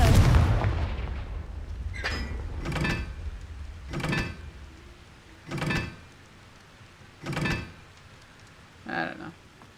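Repeated Confringo spell blasts in Hogwarts Legacy, a loud whooshing impact at the start followed by about six evenly spaced fiery bursts roughly every second and a half, each fading quickly, with no talk.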